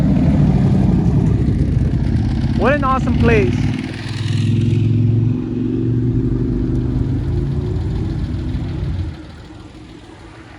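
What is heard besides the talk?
sports car and motorcycle engines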